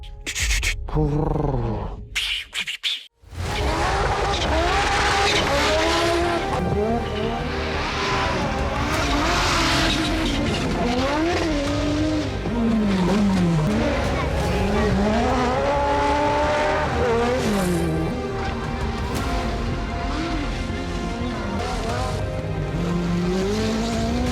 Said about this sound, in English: This 5-cylinder sound is something very, very special.